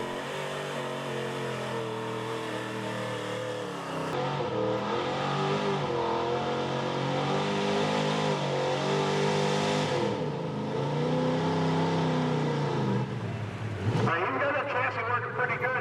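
Bud Harris's square body GMC pulling truck, Ice Cream Money, revs hard on a truck and tractor pull track, its engine roaring loud and close as the pitch climbs, dips and surges again before a sharp shift near the end.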